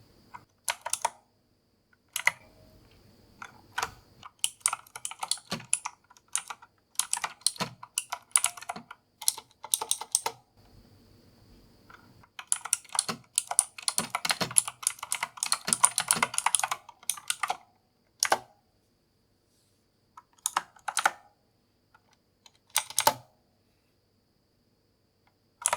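Keys on a Razer keyboard click in sharp, snappy bursts of rapid typing, close and crisp, with short pauses between runs of keystrokes and no talking.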